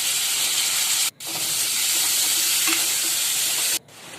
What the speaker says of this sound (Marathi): चला तांबाटा परतून झालेला आहे